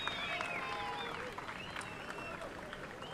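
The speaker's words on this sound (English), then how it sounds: "Fuerte aplauso, big round of applause" Crowd applause at a surf contest award ceremony in El Salvador, steady outdoor clapping and cheering with whistles and faint voices mixed in, heard at moderate distance.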